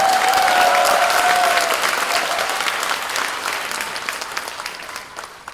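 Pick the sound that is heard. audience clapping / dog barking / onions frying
audience clapping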